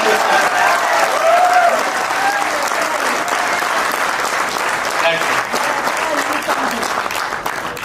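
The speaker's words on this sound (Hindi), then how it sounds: "आप एक बार हिंदुस्तान के लिए ताली बजा दो" A large crowd at a token-launch event in Jaipur claps steadily and densely for several seconds, a loud continuous wash of hands with scattered voices mixed in.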